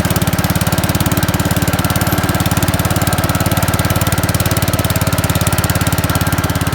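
A tractor engine runs steadily at close range, dragging an upturned bed spring across the ground while cleaning up a property; a loud, even, chugging idle-like drone continues throughout with no talk.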